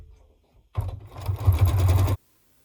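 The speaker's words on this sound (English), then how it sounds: "sew all of these lines of stitching across the top of this block" Sewing machine stitching straight, parallel quilting lines across the top of a quilt-as-you-go block: a rapid, steady mechanical whir that starts abruptly, runs for about a second and a half, then cuts off.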